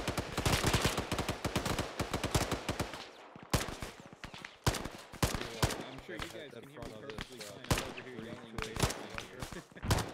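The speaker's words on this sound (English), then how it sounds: "there's a lot of gunfire going on" Rapid bursts of automatic rifle fire and single gunshots ring out in Arma 3, dense and loud at first, then sparser, more distant shots with sharp echoing cracks and faint voices underneath.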